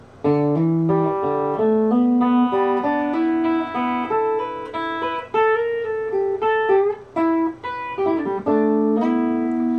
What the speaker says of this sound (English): almost a banjo roll type of thing